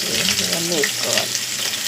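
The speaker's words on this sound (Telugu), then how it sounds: "ఆయిల్ పోసుకుని దీంట్లో ఇగో పచ్చిమిరపకాయలు వేసుకోవాలి." Green chillies, onions and curry leaves frying in hot oil, giving a loud, continuous close-up sizzle with faint tonal squeaks from the pan.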